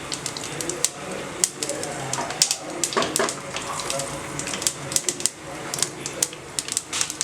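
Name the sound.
mustard seeds popping in hot oil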